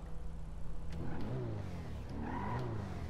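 A car engine in GTA 5 revving up, a steady mid-range engine drone that rises in pitch in two swells over a few seconds, close and fairly loud with no talking.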